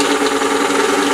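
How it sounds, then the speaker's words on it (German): Motor of a Repulsine device running during a demonstration gives a steady, loud mechanical hum with a constant tonal drone and slight vibration, unbroken throughout. "Jetzt gibt der Motor ein bisschen mehr Strom."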